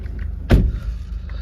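A Mercedes-Benz E220d, the 2.0 diesel E-Class AMG Line with G-Tronic+ automatic, starts with one short, loud burst, then settles into a low, steady idle rumble heard from inside the car.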